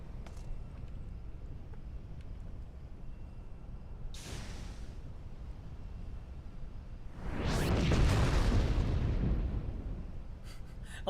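A loud explosion booms in Final Fantasy XIV, a deep rumbling blast that swells and fades over a few seconds, preceded by a shorter whooshing burst against quiet game ambience.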